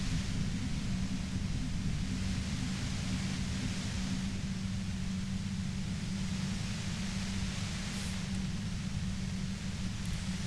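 Violent white noise near a compressor in the video game Disco Elysium: a dense, unbroken hiss over a heavy low hum, steady and overwhelming from start to end with no voices.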